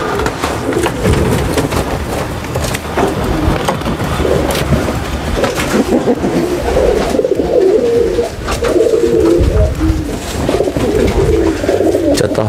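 A female imperial pigeon (tomprang) coos steadily in low, rolling calls close by, repeating throughout over a busy, noisy background.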